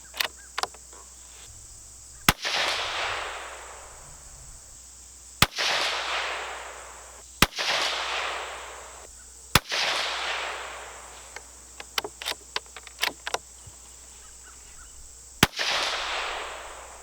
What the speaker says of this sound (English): Okay, there are my 5 shots I just did.